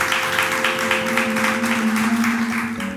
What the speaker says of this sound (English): Please clap for them as they join us in the studio.